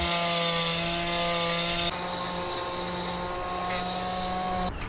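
A power sander works the hull bottom of a Catalina Capri 26 sailboat, giving a steady, close, droning whine with a strong tonal hum that shifts slightly in pitch partway through and stops at the end.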